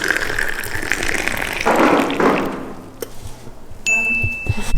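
In a Marrakesh setting, liquid is poured from high up with a steady gushing splash into a glass for a few seconds, then the flow tapers off and the glass gives a clear ringing ding at the end.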